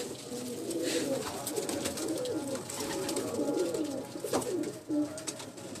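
Pigeons coo on a rooftop loft, a continuous, fairly close chorus of warbling, throaty calls overlapping with no pause.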